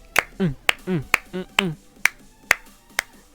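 Sharp hand claps keep time to a song during Danganronpa V3 gameplay, about seven crisp claps at a steady beat alternating with short vocal sounds, close and clear.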